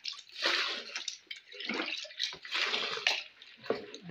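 Water is poured from a one-liter cup into a liquid detergent mix in several close, splashy pours with short pauses between them, the liquid sloshing and gurgling as it lands.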